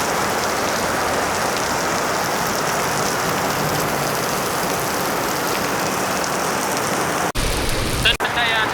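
Heavy rain pours down steadily in a loud, constant wash of hissing drops for nearly nine seconds, with brief bumps near the end.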